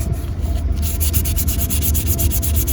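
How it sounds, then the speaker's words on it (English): Hand sanding of cured fairing compound on a sailboat, brisk rhythmic scraping strokes repeating steadily, loud and close, with no voices. "it required a quick block sanding for the flat areas and some hand sanding for the more curvy spots"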